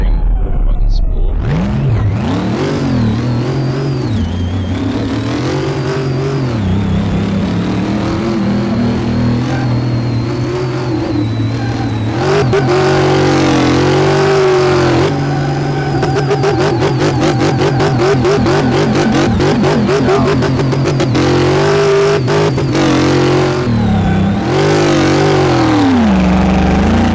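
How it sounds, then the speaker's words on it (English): A modified BMW driven slowly in Car Mechanic Simulator 2018, its supercharger whining and spooling over a steady engine drone, rising and falling with the throttle, loud and continuous, with someone talking over it now and then. "You can really hear that supercharger though. Hear that thing fucking spool?"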